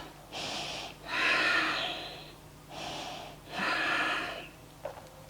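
Deep, slow yoga breaths taken close to the mic, with two full rounds of long airy inhales and exhales spaced evenly over a faint room hum, then a small rustle at the end.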